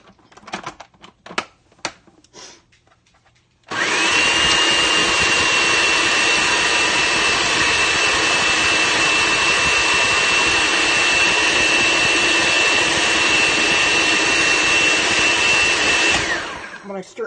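A food processor blends a sticky almond butter bar mixture, a loud steady whirring motor running continuously for about twelve seconds after a few brief knocks and clicks, then winding down.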